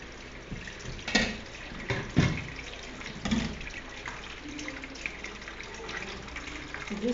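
Homemade coconut milk pours and trickles through a strainer sieve, making soft splashing and dripping with a few louder splashes, quiet and close.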